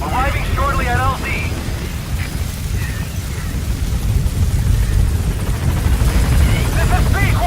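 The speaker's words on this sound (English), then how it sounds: "Support helicopter has arrived." Support helicopter arriving in the video game Metal Gear Solid V: a steady, loud rotor and engine roar runs throughout, with brief voice-like chirps at the start and end.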